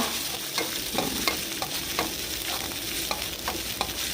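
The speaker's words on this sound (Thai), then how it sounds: "ผัดพริกแกงนะคะ ให้สุกหอมนะคะ" Thai curry paste being stir-fried in a pan for a mackerel dish, a continuous sizzle broken by regular spatula scrapes and taps at a quick, even rhythm, close and alone.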